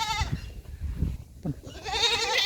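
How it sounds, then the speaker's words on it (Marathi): Osmanabadi goats on a farm, some of them young, half-grown males, bleat in wavering calls at the start and again at the end, close and fairly loud, with quieter shuffling noises between. "या ठिकाणी थोडेसे मोठे झालेले बकरे आहेत"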